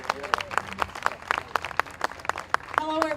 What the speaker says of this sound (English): give Jody Brenneman a big round of applause